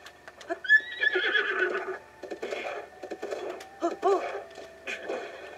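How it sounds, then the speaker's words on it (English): A horse neighs and whinnies in the Breath of the Wild video game during an attempt to tame it, several short calls over a quiet in-game backdrop. "I'm gonna try and tame one of those horses."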